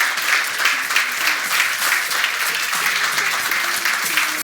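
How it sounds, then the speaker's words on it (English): An audience gives dense, steady applause after a conference talk, filling the whole stretch evenly from start to finish with no speech. "please give Jan a large round of applause"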